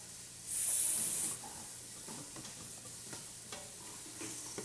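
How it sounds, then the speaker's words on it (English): Steady sizzling from food frying in a pot, with a soft hiss throughout and a few light stirring scrapes; no one speaks. "You hear the sizzle?"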